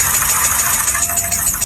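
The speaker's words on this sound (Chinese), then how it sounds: "发动机敲缸异响" A car engine with a cylinder knocking fault, running close up with a steady idle drone and a rapid, rhythmic knock throughout the short stretch.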